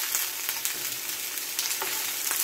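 Bok choy stir-fries in vegetable oil in a Teflon pan, giving a loud, dense, continuous sizzle close up, with soft scrapes and taps of a wooden spoon moving the greens.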